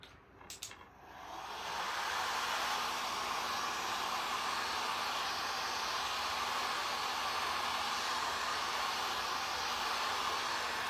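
A hair dryer or heat gun switches on after a few faint handling knocks and then blows hot air in a steady, loud hiss with a low motor hum for the rest of the stretch, with no talk.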